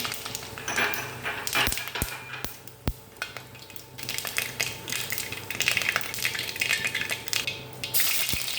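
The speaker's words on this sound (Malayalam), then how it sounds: "ചട്ടി അടുപ്പത്ത് വെച്ച് വെളിച്ചെണ്ണ ഒഴിച്ച് കടുകിട്ട്" Mustard seeds splutter in hot coconut oil in a pan for a beetroot stir-fry, making a dense, continuous crackle with sharp pops and occasional clinks of a utensil throughout.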